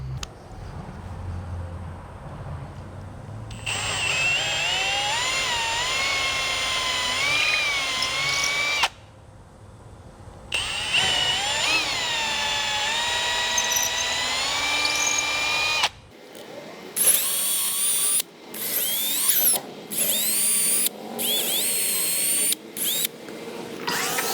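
A power drill with a small 7/32 inch bit bores holes for mounting a Gemlux pontoon boat shade, running in several long, loud whining bursts followed by a string of short, choppy pulses.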